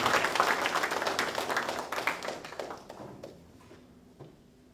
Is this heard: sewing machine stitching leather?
no